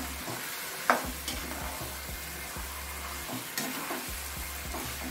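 Marinated chicken fries in a spicy tomato gravy base with a steady crackling sizzle, while a spoon stirs in regular low scraping strokes that repeat roughly every half second.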